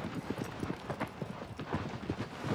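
Agro, the horse in the video game Shadow of the Colossus, gallops with rapid, rhythmic hoofbeats, steady and close over a soft outdoor ambience.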